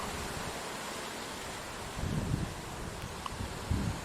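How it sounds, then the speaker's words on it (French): Steady wind blows with a soft rushing hiss, gusting louder a couple of times, with faint rustling. "On entend juste le vent qui souffle et qui souffle."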